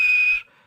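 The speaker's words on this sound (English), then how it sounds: "he blew his whistle" Steam engine whistle from Edward, a small railway locomotive, blowing one steady high tone for under half a second before cutting off into quiet.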